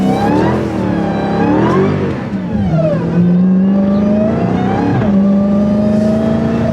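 A Dodge Hellcat engine revs up and down repeatedly in the rain, its deep roar rising and falling in pitch, loud and close with a steady hiss beneath.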